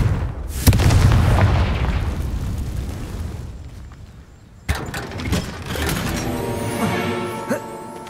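A Confringo fire spell bursts in Hogwarts Legacy as a single loud boom near the start. A rumbling tail fades over several seconds, then a second sharp impact is followed by crackling and clattering debris, with no voices.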